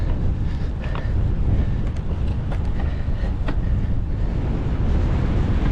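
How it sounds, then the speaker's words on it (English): Strong winter wind on an open hill roars continuously into the microphone, a dense low buffeting rumble with a few faint higher rattles of blown debris, loud and unbroken. "the wind's picked right up now"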